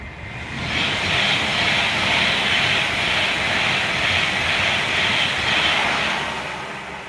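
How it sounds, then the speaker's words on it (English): An Avanti West Coast Pendolino train passes with a loud, steady broadband rush that swells in within the first second and holds for several seconds before easing slightly, with no voices over it. "I can give you an Avanti West Coast Pendolino right now."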